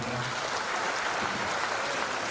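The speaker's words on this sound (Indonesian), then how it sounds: "tepuk tangan buat Pak Sekjen kita" Audience applauding at an Indonesian ministry event, dense steady clapping from a large crowd filling the room evenly at moderate volume throughout.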